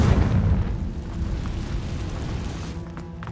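Confringo fire-blast spell explosions in the video game Hogwarts Legacy, a loud booming burst at the start followed by rumbling, crackling blast noise that stays dense and sustained to the end, with no talk.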